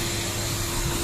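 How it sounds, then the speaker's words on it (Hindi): A vacuum cleaner runs steadily inside a car during interior cleaning, a loud continuous motor whine and airflow hiss with no break. "अंदर से भी हम वैक्यूमिंग करेंगे इसकी फुल"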